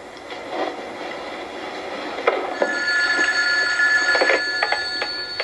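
Electronic telephone in a 1980s soap-opera scene gives a steady warbling ring that swells over a few seconds amid room noise, with no one talking.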